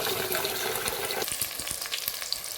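Onions frying in a pan for chicken biryani, a steady close sizzle with a few soft stirring taps in the second half, no talking.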